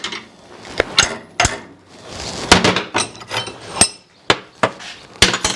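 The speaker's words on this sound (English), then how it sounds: "then you put it over here in your vise, yourself a heavy-duty hammer" Sharp, irregular hammer blows ring out on horseshoes clamped in a vise, close and loud, a dozen or so strikes with scraping and clanking between them.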